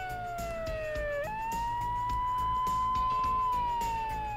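A police siren in the video game Yakuza 0 wails steadily in the background, one long tone dipping and then rising again, moderately loud, and nobody speaks.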